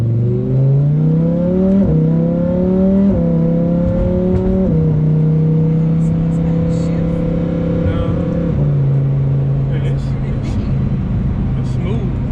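A Lamborghini pulls away in drive with engine revs climbing in steps through smooth upshifts, loud and close from inside the cabin, with people talking over it.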